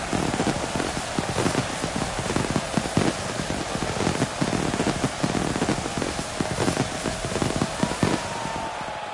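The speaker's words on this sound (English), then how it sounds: "Would you listen to this crowd?" A packed wrestling crowd roars and claps before the opening bell of a match, a loud, dense, unbroken wall of cheering that fills the whole stretch with sharp bursts of applause throughout.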